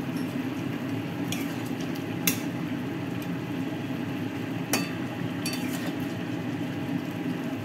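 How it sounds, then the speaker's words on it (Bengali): A spoon stirs boiling shukto in a pot against a steady simmering background, with a few sharp metallic clinks scattered across the stretch and no talk. "ফোটাচ্ছি, নাড়াচ্ছি।"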